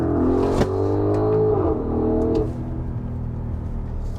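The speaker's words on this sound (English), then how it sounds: "We're gonna throw it down a gear, show you what the acceleration feels like and sounds like." A 2022 Audi SQ7 Premium Plus pulls hard in second gear, its engine note climbing loudly from inside the cabin before the revs drop and settle into a steady lower rumble.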